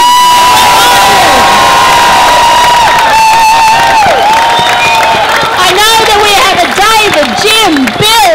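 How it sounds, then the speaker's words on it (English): A protest crowd at an anti-CSG rally outside NSW State Parliament in Sydney cheers loudly and steadily, with shouting children and whistles layered through the sustained roar. "What about a cheer for the people who are here in their 70s and their 80s?"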